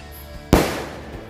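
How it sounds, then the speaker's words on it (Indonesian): A single assorted ball firecracker bursts with one sharp, loud bang, then a short decaying rumble and echo outdoors, with no talking during the blast. "Kita masukkan bolanya. Dan siap untuk kita coba. Mercon bola assorted."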